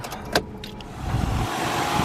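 A car engine cranks and catches, settling into a steady idle after a brief click near the start.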